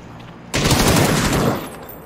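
Rapid automatic gunfire in a shooting video game bursts in loud and dense after a quiet half second, sustained for about a second before tapering off.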